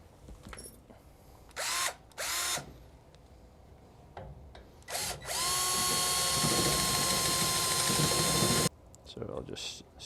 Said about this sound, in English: we'll drill in a 1/2-inch hole through the top anchor